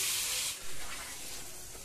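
Masala being fried in a pan after the fish, a soft steady sizzling hiss, brightest at the start, with a brief dip and then a continued gentle spatter at moderate distance.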